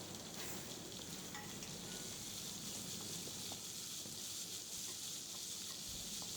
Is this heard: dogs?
no